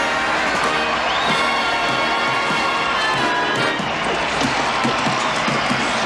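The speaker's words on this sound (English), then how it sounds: "The crowd was loving every single second of it. They went nuts, more and more crazy with every article of clothing that went off." A rowdy crowd cheers, hollers and claps at a hockey game while a coach strips off his clothes, the roar steady and dense throughout with scattered individual shouts and claps.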